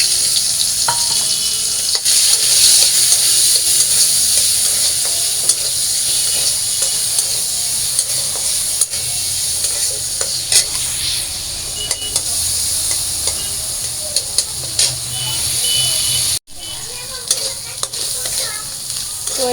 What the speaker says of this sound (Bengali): তো কালো জিরা দিয়ে এখন মাছটা ভেজে নেব